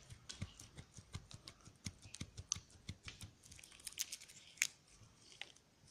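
A wax carving instrument scrapes wax on a mandibular second premolar model, close and quiet, as a rapid, irregular run of small dry clicks and scratches with no voices.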